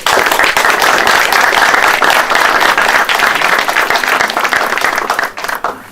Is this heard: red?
no